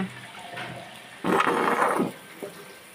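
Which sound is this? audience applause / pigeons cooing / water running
water running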